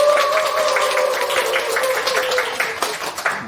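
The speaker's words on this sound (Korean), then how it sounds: "굉장히 큰 박수와 호응으로 우리 천선희 사장님을 환영해 주셨는데요" An audience claps steadily to welcome a guest onto a stage at a company talk event, a dense patter of hands over a sustained musical tone, with no speech.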